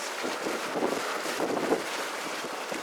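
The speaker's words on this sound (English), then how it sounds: "It's windy as though, eh? Yeah, it really is." Steady wind roars across the microphone on an open sailing boat in Tonga, a continuous broadband rush with slight gusting and faint water noise beneath.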